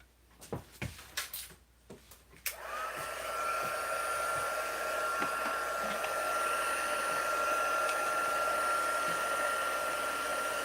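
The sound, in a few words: embossing heat gun running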